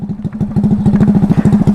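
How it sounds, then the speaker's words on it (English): Honda Ruckus scooter with a GY6 engine running an open header pipe and no muffler, giving a loud, rapid, evenly pulsing exhaust bark close by with no talk over it. "And this is the reason why you ride around with a muffler. Because a dump-off header pipe is way too"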